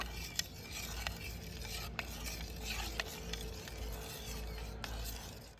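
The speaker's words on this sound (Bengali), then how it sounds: "এক চামচ দিয়ে দেব আবারও এইভাবে ভালো করে মিশিয়ে নেব" A spoon stirs a homemade cleaning liquid mixed with Surf Excel detergent, scraping and clinking against the container in a steady swirling rhythm with small sharp taps, fairly quiet and close, without talk.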